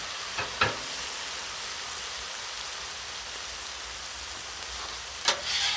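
Chicken smash burgers sizzle on a Blackstone griddle, a dense, steady, close frying hiss with a few sharp scraping taps near the start and end.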